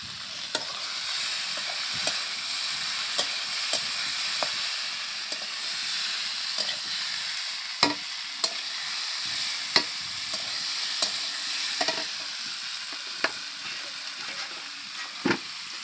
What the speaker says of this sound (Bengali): মশলাটা কষা হয়ে গেছে, এবার আমি ফুলকপি আলু দিয়ে দেবো